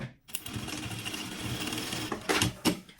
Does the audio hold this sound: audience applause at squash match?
no